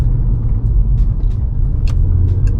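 An old Volkswagen Golf R32 cruises along a dual carriageway, heard from inside as a steady, loud low road and engine rumble that holds evenly throughout, with no talking.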